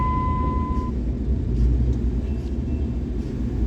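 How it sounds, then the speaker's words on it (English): Dump trucks rumble past on a construction road, a continuous heavy low drone of engines and tyres close by, loud and steady with no clear gaps between vehicles. "Oh boy, all these dump trucks,"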